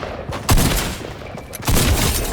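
Gunfire aimed at the player in a solo match, with two loud broadband bursts, one at about half a second and a longer volley near the end, over continuous background noise and no talking.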